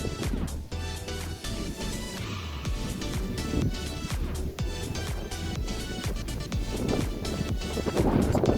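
Steady wind buffeting the microphone up high at a pigeon loft, a continuous low rumble and rush that holds throughout and grows slightly stronger toward the end.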